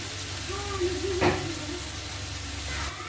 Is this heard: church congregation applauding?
no